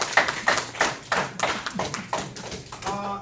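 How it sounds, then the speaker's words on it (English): A small group claps for a youth playoff team after a championship game. The claps are distinct and fairly sparse, landing in a loose, uneven rhythm for a few seconds, close by and moderately loud, with a voice briefly at the end. "Give a round of applause."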